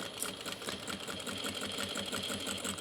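A sewing machine back-stitches along tote bag seams, its needle running in a fast, steady mechanical chatter at close range with no voices.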